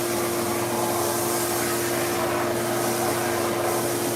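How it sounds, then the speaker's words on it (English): A freshly tuned shop vacuum in a woodturning workshop runs steadily with a loud, even roaring whoosh and a constant motor hum, with no talking. "I tuned up my vacuum the other day."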